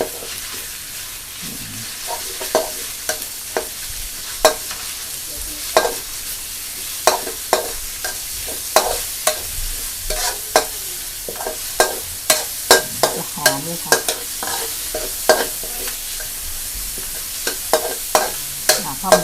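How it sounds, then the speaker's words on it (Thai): Minced pork frying in oil with golden garlic, a steady close sizzle punctuated by frequent sharp spatula scrapes and clacks against the pan in an uneven, busy rhythm. "ใส่หมูสับนิดนึงค่ะ กระเทียมมันเหลืองแล้วนะคะ"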